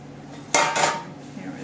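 Metal bread pans knock and clatter as baked sourdough loaves are tipped out of them: two quick bright clanks close together, then quiet.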